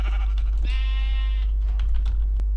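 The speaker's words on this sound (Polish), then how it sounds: "Owca." A sheep in the Minecraft video game gives a single clear bleat lasting about a second, heard over a steady low hum with a few faint clicks around it.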